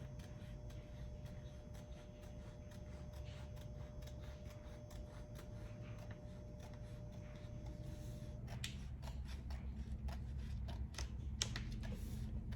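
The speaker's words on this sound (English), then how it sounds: "So you're gonna wanna go ahead and use your scissors" Scissors snip through thick sweatshirt fabric in a series of close, crisp cuts that quicken toward the end, over a low steady hum.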